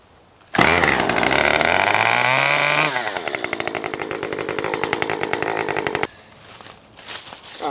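A Stihl 044 chainsaw fires up and roars loudly, then settles into a fast, pulsing idle as it warms, before the engine cuts off and only faint background noise remains.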